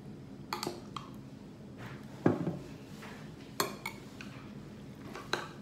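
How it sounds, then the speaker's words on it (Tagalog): A utensil scrapes and clinks against a bowl while canned tuna is mixed with mayonnaise for a tuna spread, producing soft irregular stirring sounds and a few light taps against the bowl. "Now, i-mix natin siya, guys, ng mayonnaise."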